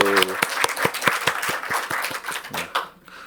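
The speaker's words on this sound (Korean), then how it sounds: "주님께 박수, 주님께 박수." Church congregation clapping in rhythm during a Sunday service, a series of sharp evenly spaced claps close by, with a voice speaking over the start and fading out at the end.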